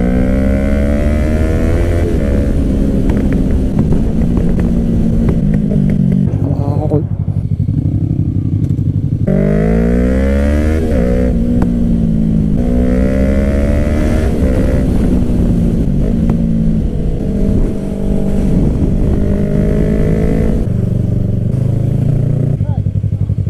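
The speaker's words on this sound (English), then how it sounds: "That's a little YBR, sounds a lot better with the exhaust now." A Yamaha YBR 125 motorcycle fitted with an aftermarket exhaust rides close by, its engine repeatedly revving up and dropping through gear changes, with a loud, buzzy note and people talking over it.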